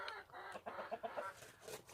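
Farm chickens, hens that have stopped laying during cold winter weather, cluck in a close, busy series of short calls over a steady background of coop noise.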